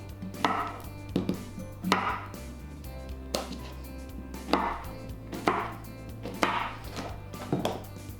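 Knife chopping mini peppers, zucchini and red onion on a cutting board, a steady series of sharp close thuds roughly every half second to second.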